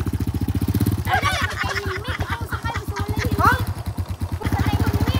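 A motorcycle engine rumbles steadily nearby, its pulsing drone rising and falling while people talk over it.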